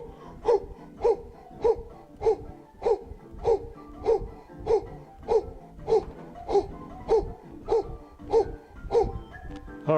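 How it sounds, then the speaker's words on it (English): Power breathing exercise during a live fitness routine: forceful rhythmic breaths, about two per second over ten seconds, loud and close with a steady pulsing pattern. "Power breathing."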